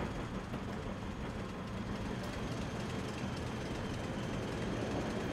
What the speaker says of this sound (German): Dann wird hier auf das Abschleppgleis rangiert.